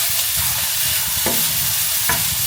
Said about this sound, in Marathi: आता मग आपण याला मस्त असं स्टर करूया.